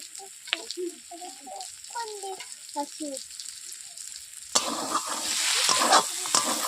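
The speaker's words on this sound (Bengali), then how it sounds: "এরপর তেল দেওয়ার পর এইভাবে আমি এক মিনিট নেড়ে দিলাম" Mixed vegetables with bitter gourd, potato and aubergine hit hot mustard oil, a loud broad sizzling hiss with stirring scrapes rising late, after a stretch of faint talk and quieter frying.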